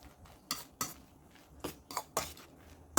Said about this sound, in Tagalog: At haluin natin mabuti.